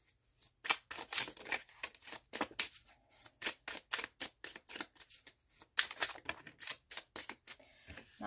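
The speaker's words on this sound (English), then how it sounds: "I'm going to give it a shuffle" A tarot card deck is shuffled by hand in a quiet room: a close, rapid series of crisp riffling bursts in an uneven rhythm, with no talking.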